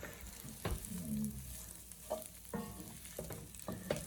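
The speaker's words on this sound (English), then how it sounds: "keep cooking this out, browning the meat and sweating down these vegetables" Meat browning alongside sweating vegetables in a pan for lasagna, a soft continuous sizzle broken by irregular scraping stirs and clinks of a utensil, close but fairly quiet, without speech.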